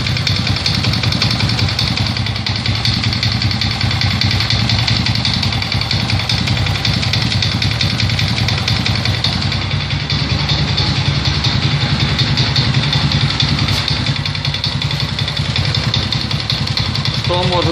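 An Alpha 110 moped engine idles loudly and steadily up close, with a strong, characteristic knocking clatter running through the continuous mechanical drone from start to finish.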